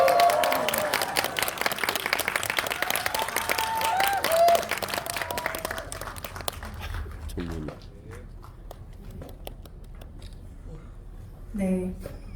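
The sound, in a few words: cinema audience applause welcoming guests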